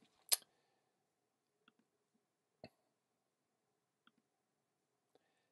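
Buttons click on a TI-84 graphing calculator while a program is entered. A handful of short, dry, separate presses land in a quiet room, the first one noticeably sharper and louder than the rest.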